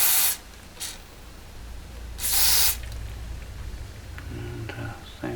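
Two sharp bursts of contact cleaner sprayed into the volume control of a Fender Twin Reverb Reissue amplifier, the second longer, near and loud, with quiet handling noise between.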